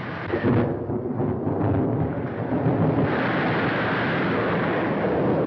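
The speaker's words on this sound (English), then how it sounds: "There's a storm coming." A thunderstorm at sea with a typhoon approaching: loud, continuous rumbling roar of wind and storm noise with no break.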